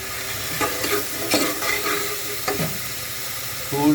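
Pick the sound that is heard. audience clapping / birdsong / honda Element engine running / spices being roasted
spices being roasted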